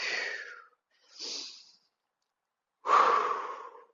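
Breathing during a pregnancy-safe mat pilates lunge exercise, three separate breaths with pauses between, a soft exhale, a short inhale, then a stronger exhale, close and alone.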